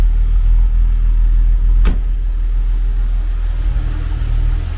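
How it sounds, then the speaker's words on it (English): A 1972 Mercedes-Benz 280 SE W108 sedan idles steadily nearby, a continuous low engine rumble with one brief sharp knock partway through. "Engine still sounds awesome, idles beautiful."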